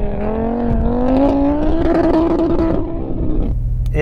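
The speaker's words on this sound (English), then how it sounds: "Go on Dan, let's see you skid your RS3" A modified Audi RS3 launches hard, its engine note climbing in a loud rising roar through a gear before dropping off, close and dominant with no talking.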